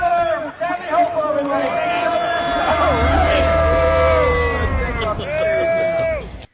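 A large crowd on Long Island boos Governor Kathy Hochul, a loud sustained wall of jeers and shouting that swells, holds and fades. Several voices carry drawn-out, sliding tones above the murmur.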